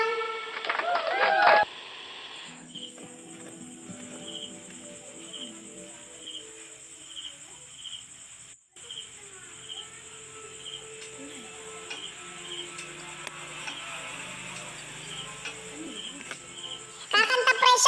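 Steady chirping of crickets, a soft pulsing trill that repeats evenly at a distance over a quiet background, with brief louder noises at the start and end.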